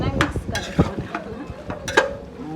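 A spoon stirs spices such as garam masala and biryani masala into a veg biryani mixture, giving scattered scraping and clinking strikes against the pot with faint sizzling underneath, close and moderately loud.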